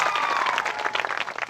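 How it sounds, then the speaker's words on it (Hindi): Audience applause for two pastors at a church gathering, a short burst of dense clapping from a crowd indoors, steady and fairly loud with a faint voice underneath. "दोनों के लिए ताली बजाए"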